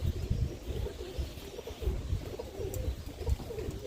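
Soft, low coos from a roller pigeon hen about six or seven months old repeat in short rolling bursts, close and fairly quiet, with no other sounds.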